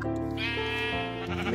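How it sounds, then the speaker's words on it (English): A sheep in the Minecraft video game bleats once, loud and close, in a single drawn-out wavering call with no talk over it. "Oh, Mr. Sheep, hello."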